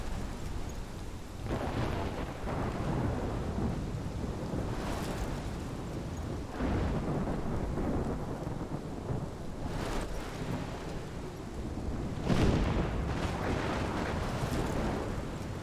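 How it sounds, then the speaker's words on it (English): A thunderstorm in the video game Life is Strange, with steady heavy rain and several deep rumbling thunderclaps rolling through it, one louder crack near the end, and no talking. "This is my storm."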